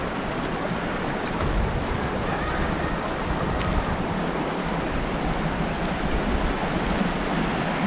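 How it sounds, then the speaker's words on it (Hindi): Steady wind and flowing water fill a quiet Kashmiri village, a constant broad rushing wash with gusty buffeting and no voices. "पानी की आवाज़ें आ रही हैं और कोई किसी भी किस्म का शोर नहीं है।"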